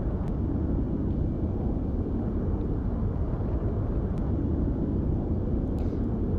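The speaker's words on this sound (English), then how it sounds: "the jet sounds pretty loud" A jet aircraft in the X-Plane 11 flight simulator gives a loud, continuous, dense engine roar that stays steady throughout, with a few faint clicks on top.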